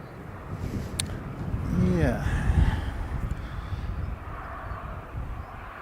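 A Jetstar airliner bound for Wellington passes overhead, a broad distant engine roar with a falling whine that swells and then fades under wind noise.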